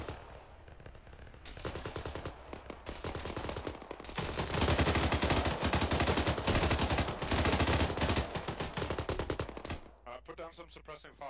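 Dense, sustained automatic gunfire lays down suppressing fire during a combined-arms battle in the video game ArmA 3. Rapid bursts swell to a continuous roar, with people talking over the shooting.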